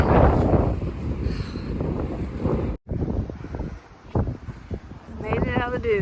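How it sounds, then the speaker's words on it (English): Strong, gusting wind on an Oregon coast beach buffets the microphone in loud, roaring rushes with a brief dropout, while a person talks intermittently over the blustery noise. "This wind is something else."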